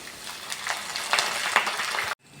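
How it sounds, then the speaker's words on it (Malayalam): Cauliflower pieces fry with curry leaves in hot oil in a pan for a crispy Thattukada-style cauliflower fry. The close, steady sizzle crackles in bursts as the pieces are stirred, then cuts off abruptly. "അങ്ങനെ കോളിഫ്ലവർ ഇവിടെ നന്നായിട്ട് ഫ്രൈ ആയി വന്നിട്ടുണ്ട്"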